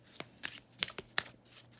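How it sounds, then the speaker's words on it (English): Soft papery riffles and snaps of oracle cards being shuffled, several quick bursts in an uneven rhythm, close and quiet. "So let me just shuffle"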